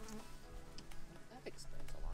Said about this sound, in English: I think it's a beehive.